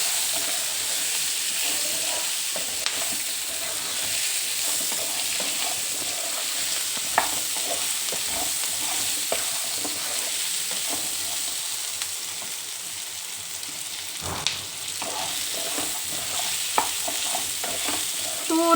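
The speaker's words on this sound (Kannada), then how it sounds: "ಇದೊಂದು ಸ್ವಲ್ಪ ಎಲ್ಲ ಎಣ್ಣೆಯಲ್ಲಿ ಫ್ರೈ ಮಾಡ್ಕೊಳ್ಳೋಣ" Garlic and ginger frying in oil for a spicy country chicken sambar, a dense continuous sizzle with scraping stirs and occasional sharp clicks of a utensil against the pan.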